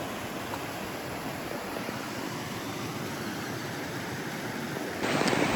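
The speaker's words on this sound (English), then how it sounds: "We're here at the creek." Creek water flowing in a Sequoia grove in Kings Canyon, a steady broadband rushing wash heard close and continuous, growing slightly louder near the end.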